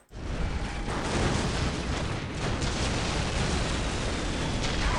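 A dense, continuous roar of overlapping blasts and booms in Dawn of War: Soulstorm fills the whole stretch, loud and unbroken, like rapid explosions going off one after another.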